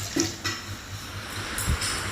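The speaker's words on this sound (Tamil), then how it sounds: "தண்ணி 5 கப்பு ஊற்றிக்கலாம்." Water pours and splashes into a pot up close, in uneven gushes with a few louder sloshes.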